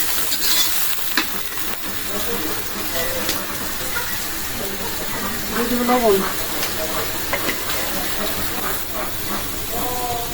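Onions fried crisp like birista in a pan for a rohu fish curry, a steady sizzle with stirring scrapes throughout, close and fairly loud, with brief bits of voice-like sound over it.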